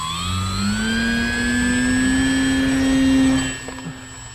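Electric motor of an ASW 28 RC glider on a 4S battery winds up for takeoff, a steady rising whine that swells loudly and close, then cuts back near the end.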